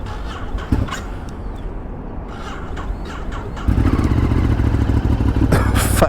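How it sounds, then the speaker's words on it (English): An old motorcycle on a wet, cold Brooklyn ride cranks with clattering coughs, then catches and settles into a loud, steady idle close by. "Fucking bike starting like it's 8 million years old."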